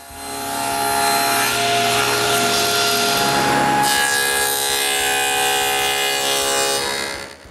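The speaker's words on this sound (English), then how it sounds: "We start by ripping plywood strips for the side of the separators." A power saw rips plywood into strips for drawer organizer separators, a loud steady whining cut that holds for about seven seconds with a shift in pitch midway, no voices.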